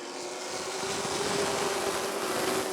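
Sportsmen feature race cars at Rockford Speedway roar together at the green flag, a dense, steady engine drone with a sustained tone, distant and unbroken, no voices.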